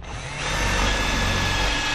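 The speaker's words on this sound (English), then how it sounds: "We're going to grab our driver with our self-tapping screws that were provided." A power driver spins a self-tapping screw while mounting a Green Touch Industries line spool rack, making a loud, close, continuous whirring drone that builds over the first half second and then holds steady.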